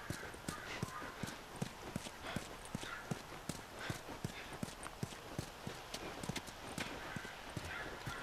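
Horse hooves clip-clop in The Last of Us, a fast, even stream of hoofbeats across the whole stretch at moderate volume, with no talk.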